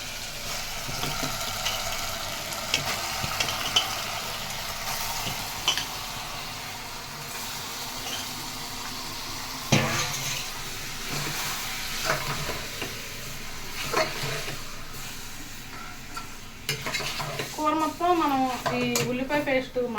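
Boti gongura curry (tripe cooked with sorrel leaves) frying and sizzling in a pan, with steady crackle under repeated scraping and stirring strokes, a louder clatter near the middle and busier bubbling toward the end; no talk.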